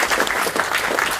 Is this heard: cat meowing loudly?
no